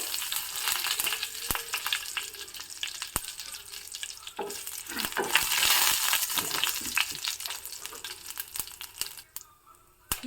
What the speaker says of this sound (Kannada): ಒಗ್ಗರಣೆ ಆಗ್ತಾ ಇದೆ ಒಂದು ಒಣ ಮೆಣಸನ್ನು ಹಾಕಿದೆ ಮತ್ತೆ ಕರಿಬೇವು